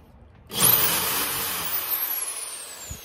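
A power drill boring pilot holes into a wall, bit reaching the cement behind, spinning up abruptly with a loud steady whine and grinding that holds for several seconds, close up and with no talking.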